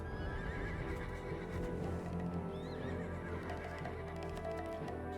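Horses in the video game Black Desert whinnying and neighing, shaken by wolves nearby, with clip-clop hooves and a continuous game soundtrack underneath; repeated neighs over a steady, full background.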